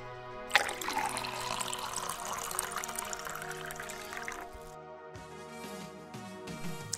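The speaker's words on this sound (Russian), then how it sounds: "Покрываем дно аквариума чистой водой." Clean water pours and splashes steadily into a red-eared slider turtle aquarium, bright and trickling, then thins out and stops near the end; fairly quiet, no voices.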